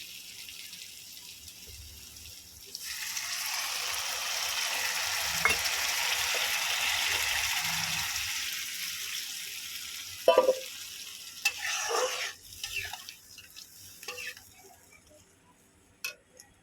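Water poured into sizzling tilapia curry masala in a pan brings a loud, rushing hiss of frying that swells for several seconds then fades, followed by a few sharp clinks and stirring knocks.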